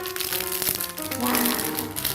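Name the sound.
toy package being unwrapped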